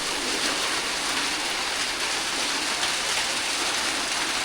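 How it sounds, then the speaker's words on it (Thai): Steady rain falls and patters on surfaces at a brickmaking site, an even, dense hiss that fills the whole stretch without a break. "ฝนตก"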